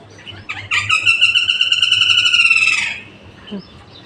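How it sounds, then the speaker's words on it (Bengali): Birds singing at dawn on a rooftop, with one long, bright whistled call that holds steady for about two seconds over a faint low hum, then a short chirp after it. "পাখি কি সুন্দর ডাকে,"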